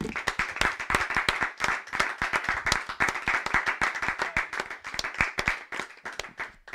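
A church congregation applauds, steady dense clapping from many hands that continues evenly throughout at moderate loudness, with no talk over it.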